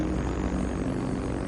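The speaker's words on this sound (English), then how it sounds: "The V-1 gets nicknamed the Buzz Bomb for the loud noise its jet engine creates." A V-1 flying bomb's pulse jet engine drones loudly and continuously, a rough, even buzzing roar that holds steady with no pauses.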